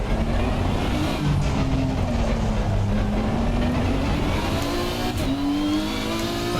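Nissan GT-R engine driven at speed around the Nordschleife in Assetto Corsa Competizione, a steady loud drone with rising and falling pitch through gear changes, continuous and close throughout.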